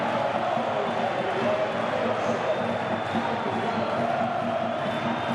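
Arena crowd at a Virtus vs Partizan basketball game in Bologna roars steadily after a buzzer-beating three-pointer, a dense sustained wash of cheering with no breaks, loud and close throughout.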